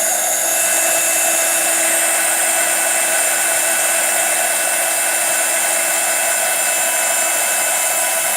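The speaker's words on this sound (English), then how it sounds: "as the heat tool heats up, it'll go a little bit quicker." A craft heat tool blows hot air to melt embossing powder, giving a steady, loud, even whirring hiss that holds without a break from start to finish.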